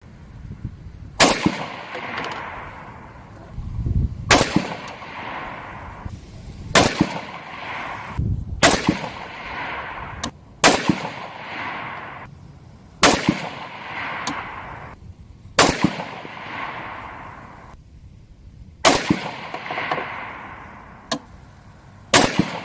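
Rifle shots at an outdoor range from a 224 Valkyrie firing 95 grain Sierra MatchKing loads: ten sharp, loud cracks spaced a couple of seconds apart, each with a brief echoing decay, and no talking.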